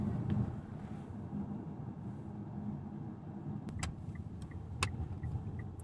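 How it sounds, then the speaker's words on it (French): A very old tractor engine runs at a low steady rumble, faint and somewhat distant, with a few sharp clicks near the end. "un très vieux tracteur"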